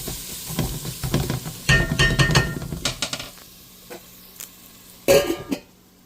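Masala for a spicy homemade Telugu chicken curry sizzling in a pan and stirred with scraping clatters, the bursts irregular and close, with a cough or throat sound mixed in.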